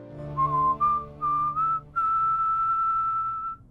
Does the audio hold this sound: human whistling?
yes